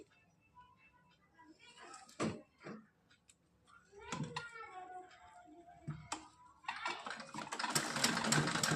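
A sewing machine stitches fabric for a small designer dress: scattered clicks and short knocks come first, then a dense, continuous whirring run of stitching builds near the end.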